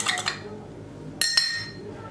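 A utensil clinks against a bowl while egg yolk is whisked with milk and oil: two quick clusters of bright metallic taps, short and close.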